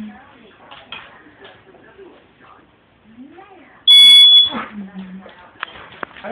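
A smoke alarm lets out a single loud, piercing beep for about half a second amid excited voices of people talking and shouting nearby.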